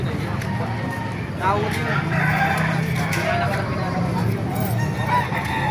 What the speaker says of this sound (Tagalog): Napakarami pang manok dito.